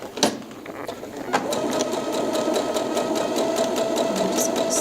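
A sewing machine stitches fabric in a steady, fast mechanical whir with rhythmic ticking after a couple of clicks at the start, close and alone.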